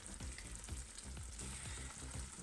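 Peppers and onions cooking uncovered in olive oil, a soft, continuous sizzle with faint bubbling pops, heard close and alone.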